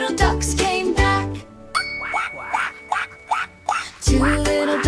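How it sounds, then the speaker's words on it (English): A duck quacking inside a children's nursery rhyme song about five little ducks, a run of bright, rhythmic quacks over tinkling, jingly music, close and clear. "Mother Duck said, quack, quack, quack, quack, quack"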